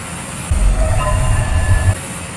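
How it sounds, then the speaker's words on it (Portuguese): A train rumbling past in the driving game My Summer Car at night, a loud steady low roar with faint wheel squeal, alone without talk. "tem um trem essa hora"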